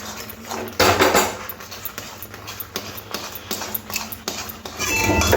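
A spoon scraping and clinking against a pan as dry semolina (suji) is stirred and roasted, with irregular close metallic taps over a steady low background, no voices.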